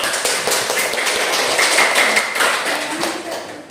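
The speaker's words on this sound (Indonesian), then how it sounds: "Silakan kelompok 1 berdiri dan beri aplaus buat kelompok 1" Classroom applause for a student group, a dense patter of many hands clapping, fairly loud and close, lasting a few seconds before thinning out.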